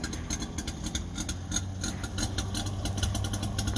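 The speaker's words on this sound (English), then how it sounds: "We're out driving the DKW." A DKW car's two-stroke engine runs at a steady, fast, buzzing putter with a fine rhythmic pulse and a low rumble underneath, close and constant, with no voices.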